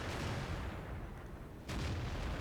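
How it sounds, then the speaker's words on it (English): A tank shell glancing off armor in World of Tanks, a heavy muffled boom over a dull, rumbling battlefield din, followed by a second thudding burst near the end. "And that was a bounce."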